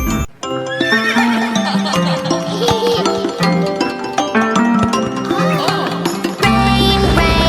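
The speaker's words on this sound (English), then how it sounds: "Neigh, neigh, the horses say." Horse neighing and whinnying alongside clip-clop hooves, set within a children's nursery song with layered music, loud and continuous throughout.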